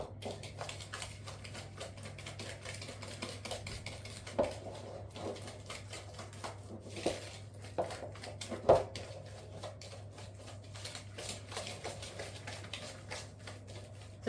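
A spoon stirs orange cake batter in a bowl with light, irregular clicks and scrapes, faint over a steady low hum, with a couple of slightly sharper knocks against the bowl.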